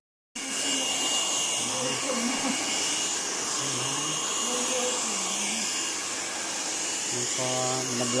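A hair blow dryer starts abruptly and runs with a loud, steady whirring roar during hair rebonding, while a voice speaks faintly beneath it.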